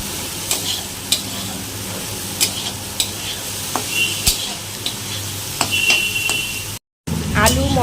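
Potatoes and spices frying over low heat in a pan, a close sizzle punctuated by sharp spatula scrapes and clinks against the metal, with a brief dropout near the end.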